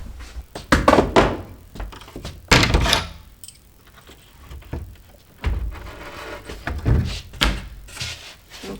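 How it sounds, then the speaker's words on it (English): A door is pulled off inside a salvaged mobile home under renovation, giving a series of close, loud wooden thunks and knocks in irregular bursts separated by short quiet gaps. "Let me pull the door off."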